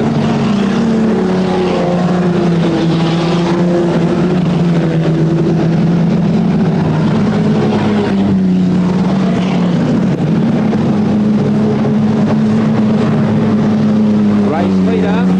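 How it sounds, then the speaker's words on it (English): Race cars roar past during a race, a steady, loud drone of engines with shifting tones as the cars pass, heard under continuous commentary. "then comes the 48 car in third place, moving through on the inside of Russell to try and hold the lead"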